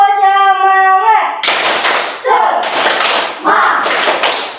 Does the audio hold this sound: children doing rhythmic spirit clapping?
yes